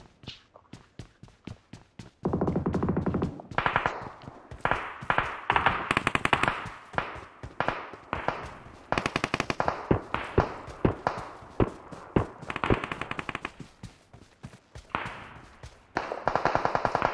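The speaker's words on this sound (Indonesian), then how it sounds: "dia nembakin bot itu" Rapid bursts of automatic gunfire in a video game as a player shoots at a bot, loud repeated volleys with short pauses between them, alongside lighter clicks and footstep-like taps.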